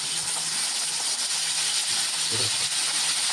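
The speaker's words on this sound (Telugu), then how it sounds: "అందులో మనం దొండకాయ మంచిగా ఫ్రై చేసుకోవాలి." Ivy gourd (dondakaya) frying in about two and a half spoons of hot oil, a steady close sizzling hiss that runs unbroken throughout with no talk over it.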